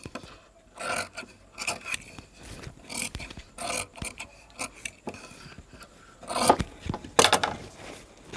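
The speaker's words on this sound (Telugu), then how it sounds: "క్రాస్గా తీసుకొని ఈ వేస్ట్ అంతా కటింగ్ చేసేయండి" Scissors snip and scrape through waste fabric while a blouse is being stitched, giving a series of close, irregular cutting and rustling sounds with short pauses between cuts.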